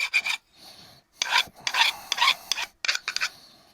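Round metal framing for a kitchen bench is being ground smooth along its edges, heard as short, close rasping strokes in quick bursts separated by brief pauses.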